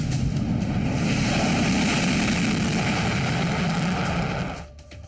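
A B-1 Lancer supersonic heavy bomber passes with a loud, steady engine roar that holds strong for several seconds and then fades away near the end, with no voices.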